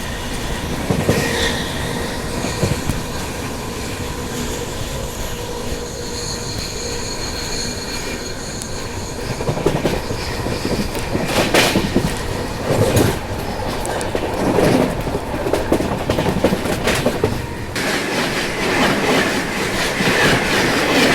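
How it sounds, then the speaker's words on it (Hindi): The Subedarganj Dehradun Express passenger train runs on rails, heard from on board as a loud continuous rumble with rhythmic clickety-clack of wheels over rail joints and occasional screeches, with no voices. "अब जिस हिसाब से अपनी ट्रेन स्लो हो चुकी है ना"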